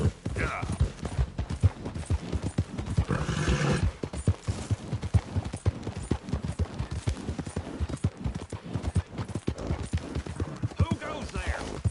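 A horse gallops in Red Dead Redemption 2 on PS4, its hooves pounding in a steady, fast rhythm over busy game ambience, with occasional voice-like sounds in the mix.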